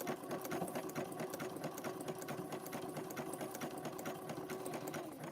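A sewing machine stitches through a fabric-wrapped rope bowl, running steadily and continuously with a rapid, even mechanical patter close by, alone with no talk.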